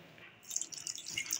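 Water is poured onto sugar in a kitchen to make syrup for milk buns: faint, trickling splashes and drips, close and quiet, with no talk.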